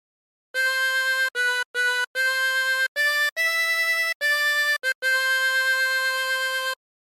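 Tremolo harmonica, a 24-hole model, plays a slow phrase of a song alone, in a run of sustained reedy notes with brief breaths between them and no talking.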